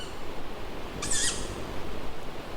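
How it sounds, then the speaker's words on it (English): An owl calls once at night in wooded ruins, a single sharp hooting cry at moderate distance over a low, steady background hiss. "That's the owl again watching us."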